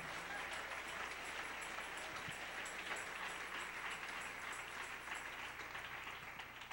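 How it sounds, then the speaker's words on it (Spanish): A church congregation applauds together, a steady wash of many hands clapping at moderate distance, continuous and even for several seconds without voices over it. "Denle un aplauso al Rey en esta preciosa mañana"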